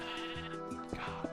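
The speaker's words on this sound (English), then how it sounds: "Move, sheep!" A sheep in a kingdom-building video game bleats in a few short, wavering calls over a steady backing tone. The bleats are close but fairly quiet, and no one talks over them.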